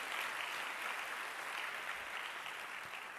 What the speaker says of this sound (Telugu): గట్టిగా చప్పట్లు కొట్టి దేవుని అనుమతింపరచు.